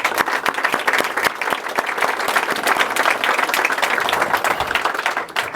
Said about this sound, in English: he deserves my applaud and our applaud